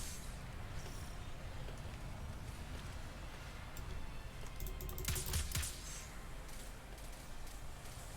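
Quick, continuous clatter of computer keyboard keys with a few mouse clicks during PC play in a Chrome browser, fairly close but soft, with a denser burst of keystrokes midway.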